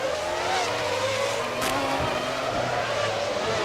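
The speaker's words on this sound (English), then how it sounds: "Now we're looking at the McLaren chasing the Jordan." Formula One cars race through the streets of Monaco at the 2000 Grand Prix, a McLaren chasing a Jordan, their engines a loud, continuous high-pitched whine that shifts in pitch through the corners, with a brief squeal.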